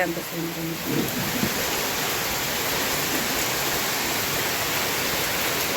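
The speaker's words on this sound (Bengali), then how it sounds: "এত জোরে বৃষ্টি নামছে" Heavy rain pouring down in a village during hot weather, a loud, steady broadband wash with no breaks; a brief low tonal sound is heard at the very start.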